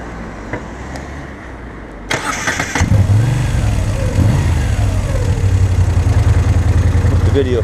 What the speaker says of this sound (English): Bike's got a nice rumble to it.